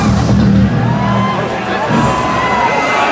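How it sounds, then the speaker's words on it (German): Dense concert crowd at a show in Mannheim, loud cheering and applause filling the whole stretch with shouts rising over a steady roar. "Schönen Applaus"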